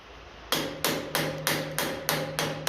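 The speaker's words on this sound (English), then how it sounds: "this jubilee is fairly rusted, so I'm using the impact on it with a plastic hammer" A plastic hammer strikes a rusted jubilee clip on a pipe of a 1957 Ferguson FE35 TVO tractor, giving eight sharp, evenly spaced knocks, each ringing briefly, close and alone.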